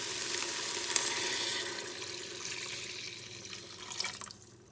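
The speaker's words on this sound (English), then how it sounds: "we are going to have 2 cups of beef broth" Beef broth, two cups of it, pours into an Instant Pot with flour mixed in for ground beef stroganoff, giving a steady, close watery splashing and trickling that fades toward the end.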